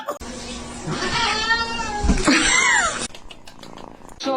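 A kitten meows in drawn-out, wavering cries, loud and close, repeated over a few seconds before clicking noises and faint sounds follow.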